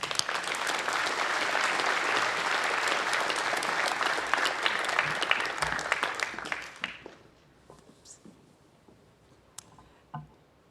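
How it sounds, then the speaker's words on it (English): Audience applause at a university presidential inauguration ceremony, a sustained crowd ovation of many clapping hands that holds steady for several seconds, then fades away, leaving a few scattered claps in a quiet hall. "Won't you give them a round of applause?"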